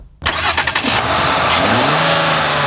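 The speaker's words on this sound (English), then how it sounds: "the 6-speed automatic that's married to the 3-litre Duratec V6 engine" A Ford Fusion with its 3-litre Duratec V6 and 6-speed automatic fires up and revs, a loud close engine burst settling into a steady rising drone.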